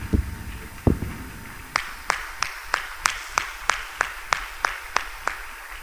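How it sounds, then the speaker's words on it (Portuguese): A church congregation of husbands clapping in praise, a few loose claps giving way to a steady, evenly spaced rhythmic clap, moderately loud with no talk over it. "Quem já achou, aplauda Jesus aí pela esposa."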